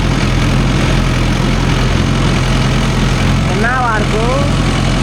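A Mahindra Yuvo Tech Plus 585 4WD tractor engine runs at a steady low idle, its continuous rumble holding level throughout while a voice speaks briefly over it near the end.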